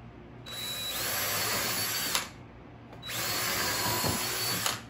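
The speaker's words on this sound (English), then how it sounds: "I am a fan of drilling pilot holes" A power drill bores pilot holes into untreated lumber for a garden compost sifter, with two sustained high whining runs of about two seconds each, separated by a short pause and both ending in a sharp catch.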